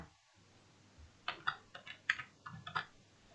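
Computer keyboard typing of code during a JavaScript lesson: a short burst of close, crisp key clicks in an irregular rhythm over a quiet room hum, with no talking.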